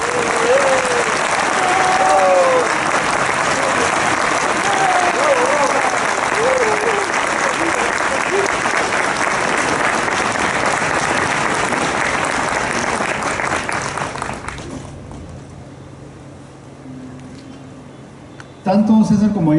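Sustained audience applause at a literary dialogue event at the Lima book fair (FIL Lima 2017) honoring the writer Alfredo Bryce Echenique, dense and steady for about fifteen seconds, then thinning out and fading into a quieter room with a brief noise at the end.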